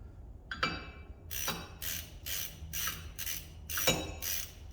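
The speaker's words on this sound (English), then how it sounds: "I'm just going to get it close with the ratchet" A ratchet tightening a wheel hub bolt on a Ford F-150 with a half-inch socket, giving a series of sharp, close metallic clicking strokes in a fairly regular rhythm.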